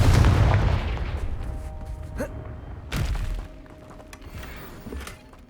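Confringo fire spell striking in Hogwarts Legacy, a sharp thudding blast near three seconds with a smaller pop before it, fading into low game ambience with faint later impacts.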